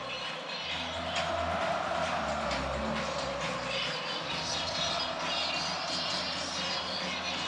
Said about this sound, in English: But this crowd is back in it in full force, baby.